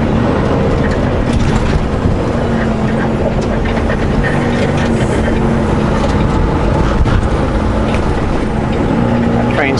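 A slow-moving train rumbles steadily at close range, a continuous low mechanical drone with faint squeals and clatter throughout, and no voices over it.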